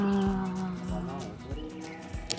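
A horse at a farm resort in Ooty gives a drawn-out whinny, then scattered heavy thuds and low snorts follow, close and moderately loud, with a brief rustle near the end.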